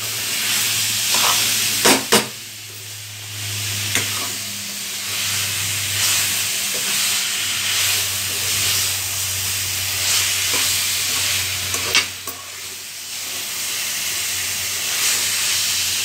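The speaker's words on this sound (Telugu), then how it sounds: "ఒకసారి ఈ ముద్ద ఈ దొండకాయలకు పట్టేలాగా కలుపుకుందాం" Fried tindora (ivy gourd) being stirred with a spice paste in a pan, a steady broadband sizzle with scraping stirs and a few sharp clicks throughout, close and fairly loud with no talking.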